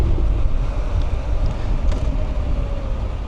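Steady, loud wind buffeting over a rider's helmet on a Honda NC700X motorcycle with a slightly taller aftermarket windscreen, a continuous low roar filling the clip with no talk.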